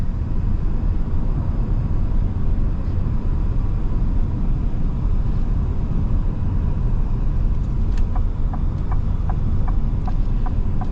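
A 2025 Lincoln Navigator L cruising, with a steady low engine and road rumble filling the cabin, smooth and even throughout, and a few faint ticking clicks near the end.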